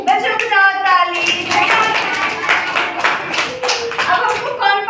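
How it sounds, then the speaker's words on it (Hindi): A class of children claps along in a Hindi lesson at Sarvodaya Scholar's NH 83, with a loud, fast burst of hand claps that runs for several seconds while a teacher's voice chants over it at the start and end. "बच्चों बजाओ ताली।"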